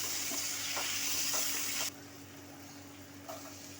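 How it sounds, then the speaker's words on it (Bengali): Chopped carrots fry in oil in a pan for red sauce pasta, a steady close hiss with a few stirring scrapes, the sizzle dropping quieter partway through and then stirring again. "গাজরগুলোকে একটু তেলে ভেজে নেব।"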